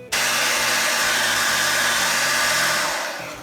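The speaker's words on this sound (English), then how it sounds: "I will take a hair dryer, warm up this sticky back Velcro" A hair dryer runs on high to warm sticky-back Velcro during a seat cover install in a 2012 Ford F-350, a loud steady whir that starts abruptly and holds before fading slightly at the end.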